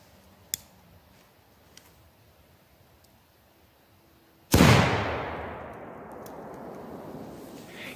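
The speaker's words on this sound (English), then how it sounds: "Let's test a small grenade with only 15 grams of red phosphorus." A small 15-gram red phosphorus smoke grenade, made with nitrocellulose in acetone, bursts alight with a sudden loud whoosh that fades into a long hissing burn. A few faint clicks come first in near silence.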